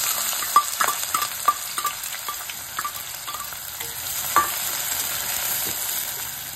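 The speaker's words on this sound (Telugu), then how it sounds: "వేడెక్కిన తర్వాత మనం సన్నగా తరిగి పెట్టుకుని ఉల్లిపాయ ముక్కలు కొంచెం వేసి వేయించాలి" Chopped onions frying in hot oil inside a cooker give a steady sizzling hiss, broken by occasional clinks and scrapes of a spoon stirring them, close and moderately loud with no talking.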